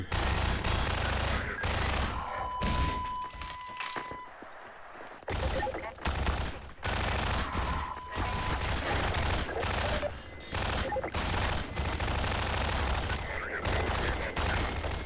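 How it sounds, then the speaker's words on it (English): SMG fire in the video game Half-Life 2 rattles out in rapid repeated bursts with brief gaps between them. Game noise and occasional voices sit underneath. "Oh man, wasting all my SMG bullets."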